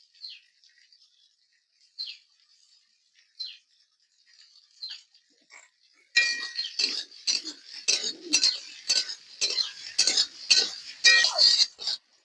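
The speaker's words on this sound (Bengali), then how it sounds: "এই পেঁয়াজ আর আলুটা ভালো করে ভেজে নেব।" Onions and diced potatoes fry in a pan as a spatula works them: a few faint metallic taps at first, then loud rhythmic scraping and stirring bursts with sizzling in between, close by.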